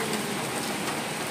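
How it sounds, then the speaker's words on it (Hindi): Heavy rain pours down steadily in a dense, unbroken hiss of drops, close and constant with no voices. "आज तो मस्त बारिश आ रही है,"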